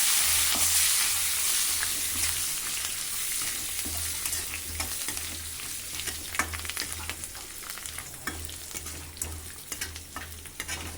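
Curry leaves frying in hot oil for a fenugreek chutney, a close crackling sizzle with scattered sharp pops over a low steady hum, no talking.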